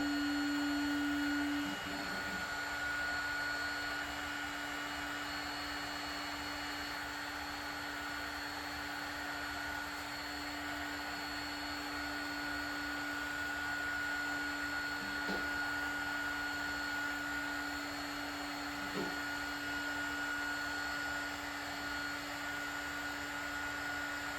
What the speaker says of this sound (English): Turn the heat gun on, get it going.